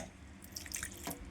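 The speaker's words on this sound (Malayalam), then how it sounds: "കുറച്ചും കൂടി വെള്ളം" Water drips and trickles into rice-flour batter for egg bajji, a short soft splashing pour in a quiet kitchen with no talk.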